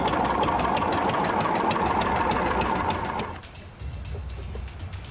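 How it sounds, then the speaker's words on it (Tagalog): A boat engine chugs steadily out at sea, a rough mid-pitched running rattle that drops off abruptly partway through, then continues more quietly. "O, paandalin nyo na yung makina."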